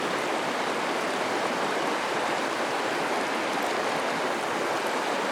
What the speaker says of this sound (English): You can see we got this really cool rapid right in front of us.